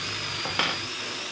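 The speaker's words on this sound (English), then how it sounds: "drill out the through holes with the 1/4-inch bit" A power drill with a 1/4-inch bit bores through holes in a tablesaw extension piece, giving a steady high whine with a brief surge as the bit bites into the material.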